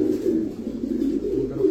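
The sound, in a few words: Red European Toy Lahori pigeon cooing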